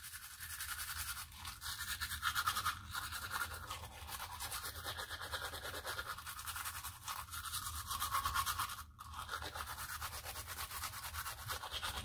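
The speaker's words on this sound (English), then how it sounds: "I'm not even brushing that hard" Teeth are brushed with a toothbrush close up, rapid rhythmic scrubbing strokes in steady bursts with brief pauses, no talking.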